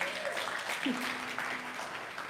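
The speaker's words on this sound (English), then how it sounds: "Let's give them another round of applause." Audience applause at a May Day event, a fairly quiet, steady patter of clapping with a faint voice or tone briefly heard through it.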